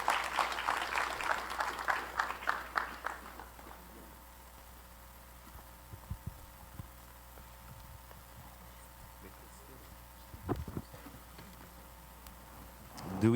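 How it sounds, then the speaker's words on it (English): Applause from an audience at a film festival awards event, a burst of clapping that fades after a few seconds, leaving quiet room tone with a few scattered sounds. "we again give one last round of applause to all of the storytellers who created these stories for this campfire."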